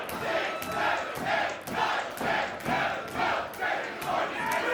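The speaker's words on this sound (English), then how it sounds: "As the crowd count along." A wrestling crowd at a Christmas show chants in unison, counting along in loud, steady rhythmic bursts that echo through the hall, one beat after another with no pause.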